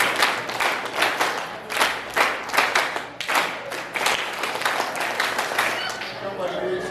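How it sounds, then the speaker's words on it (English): Children at a church programme clap along in unison, a series of distinct rhythmic clap bursts under voices chanting, loud and close, settling into softer continuous clapping near the end. "Let's clap it."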